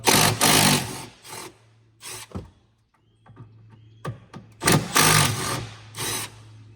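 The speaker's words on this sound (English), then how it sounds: "you'll start right here, your 27 Torx bit. You need to take these two screws out." A driver turning out the two screws on a 2019-2023 Ford Explorer tail light with a T27 Torx bit gives loud scraping, rattling bursts in short close bursts with quieter gaps between them.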